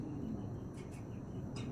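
Pigeons cooing, including big-sized pairs kept for sale, heard as a few soft, brief calls over a steady low background hum; no one speaks.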